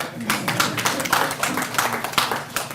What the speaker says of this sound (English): It's that time we clap hands for the convener.